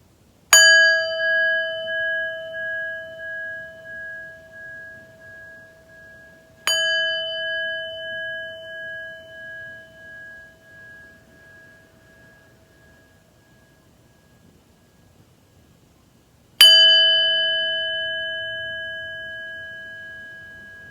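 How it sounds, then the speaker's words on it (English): A mindfulness bell struck three times, each strike a clear ringing tone with a long, slowly fading shimmer, the strikes spaced several seconds apart in near silence. "each time I invite the bell, we'll take a nice mindful breath"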